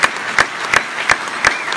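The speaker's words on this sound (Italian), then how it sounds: "Un altro applauso, ma di quelli potenti." Audience applause after a bishop's address at a church event, steady clapping with sharp rhythmic accents roughly every third of a second, loud and close, no voices over it.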